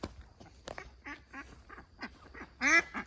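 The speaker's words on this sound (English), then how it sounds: "Our ducks are out foraging." Farm ducks foraging outdoors let out a run of repeated nasal quacks, fairly close and moderately loud, with a louder burst of calls near the end and no talk.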